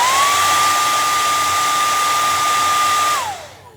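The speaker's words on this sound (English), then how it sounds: "But if you wanted to hit it really quickly with the cool setting on a blow dryer" A blow dryer on its cool setting dries paint, running as a loud steady whirring whine with a constant tone for about three seconds before it switches off and winds down.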